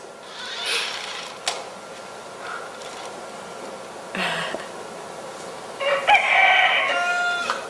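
A rooster crows several times against a quiet background, with brief clucks and sharp bursts between the drawn-out calls, moderately near.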